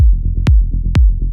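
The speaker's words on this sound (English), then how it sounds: "I made this simple rolling bass and kick pattern which sounds like this." A synthesized electronic music pattern of a rolling bass line with punchy kick drum hits, two heavy kicks landing over a rapid pulsing low bass loop, loud and close with no voices.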